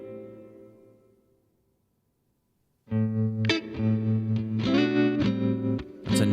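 A guitar rings out with a warm, lush reverb, a sustained chord fading away, then after a short silence several strummed chords bloom with a long, smooth tail.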